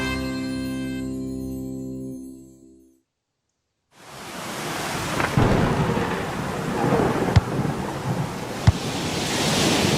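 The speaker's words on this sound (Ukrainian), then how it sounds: "Який сильний дощ на вулиці і вітер." Heavy rain pours steadily with gusting wind and rolling thunder, a loud, dense roar broken by a few sharp cracks, after a brief silence.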